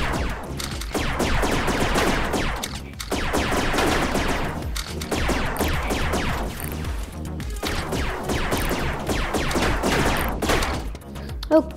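Rapid laser tag gunfire in the Rec Room video game, dense bursts of shots that rattle on almost without a break, a few brief pauses between volleys and one sharp hit near the end.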